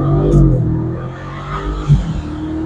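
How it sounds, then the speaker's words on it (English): A BMW 650i F12 coupe drives under steady engine drone and tire roar, with a brief rising surge near the end, heard from inside the car. "It sounds like a racing car then."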